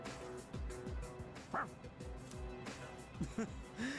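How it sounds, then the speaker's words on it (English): A dog in the Persona 3 Reload video game barks and yips repeatedly in short bursts, with soft whimpers under steady game music and sound effects. "Your dog doesn't seem to like your answer."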